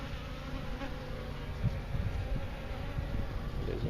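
Honey bees buzzing steadily and close during a hive removal in Wellington, Florida, a dense continuous drone of many insects with no talk.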